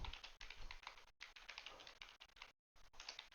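Fingers type on a computer keyboard, a fast run of close, crisp key clicks with two brief pauses, entering a name on screen, with no speech.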